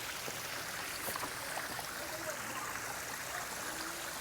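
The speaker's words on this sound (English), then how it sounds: "waterfall that they attempted to make and have a little bit of flowing water through here" Water trickles and flows steadily through a small man-made garden waterfall among Japanese-style arches, a continuous close, even wash of splashing with no voices.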